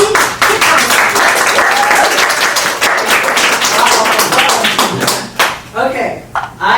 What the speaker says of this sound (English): let's give one more round of applause to Kelie Cichoski.